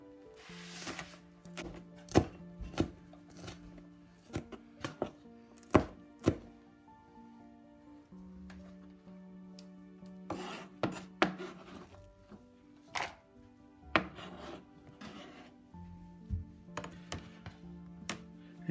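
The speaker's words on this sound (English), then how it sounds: "Slice the green pepper, do like this, as thin as possible." A knife slices a green pepper thinly on a cutting board in a home kitchen, a rapid series of sharp, close chopping taps in bursts with short pauses, no talking.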